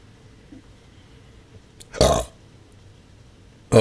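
A single loud, abrupt belch erupts close to the microphone, preceded by a faint short throat noise and followed by quiet room tone, with another brief burst starting at the very end.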